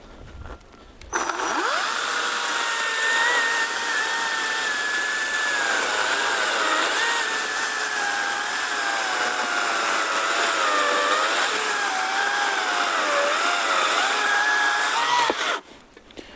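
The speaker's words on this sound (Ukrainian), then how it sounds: "Пилка тримає оберти нормально. Спробуємо червоний дуб." A Procraft PKA48Li cordless saw whines steadily through a long cut in red oak, motor pitch wavering slightly under load, loud and close for about fourteen seconds.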